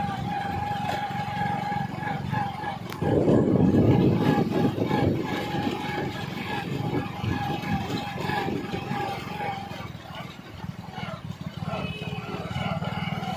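A motorcycle rides through a village with a steady engine drone close by, surging louder for a couple of seconds early on, then settling back to a constant hum.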